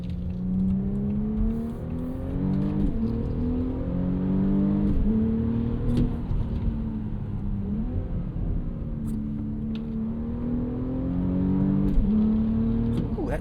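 Turbocharged V6 of a 2025 Audi SQ5 SUV accelerating hard from inside the cabin, engine note rising through the revs and dropping sharply at each firm upshift, a steady loud drone throughout.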